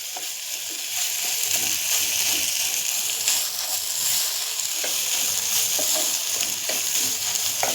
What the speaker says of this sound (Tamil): இந்த கோவால தான் நம்ம கிண்டிகிட்ருக்குறோம்